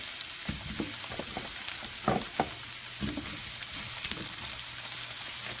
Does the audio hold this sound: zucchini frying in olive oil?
yes